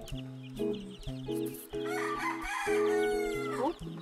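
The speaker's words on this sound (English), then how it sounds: "Hello, chickens. Mga little chickens." Several chickens clucking and a rooster crowing nearby, repeated loud calls in rhythmic bursts with a long crow near the end.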